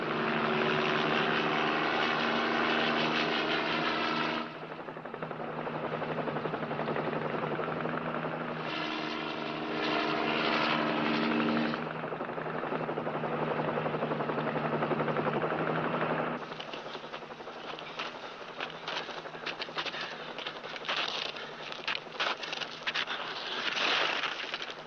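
A helicopter flies over a mountain area in a 1955 police drama, its engine and rotor drone steady and fairly loud, shifting in texture as it passes, with no voices.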